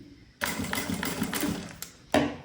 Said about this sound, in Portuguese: estou costurando bem próximo do vivo, por isso que esse calcador aqui é importante